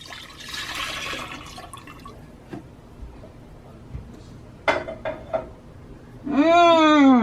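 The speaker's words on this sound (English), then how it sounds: "And then I'm going to add my simple syrup." Simple syrup is poured into lemon juice for homemade lemonade: a soft liquid trickle, then scattered drips and splashes, and finally a louder, ringing gurgle close by.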